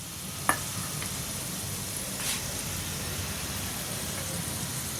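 Ghughra frying in hot oil over a medium flame: continuous sizzling, a steady crackling hiss with one brief sharp knock near the start.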